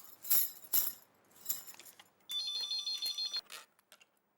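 A telephone rings during an outgoing call in a home setting, sounding as a bright electronic ring after some light clinks and small knocks, fairly faint and alone.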